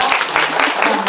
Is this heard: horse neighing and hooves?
no